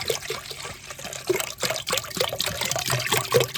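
Cold water from a bottle poured into a jaljeera mix for pani puri, a close splashing, trickling pour lasting a few seconds with a slight gurgle, heard alone.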